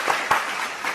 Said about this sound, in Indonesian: beri tepuk tangan kepada Masyur Situmorang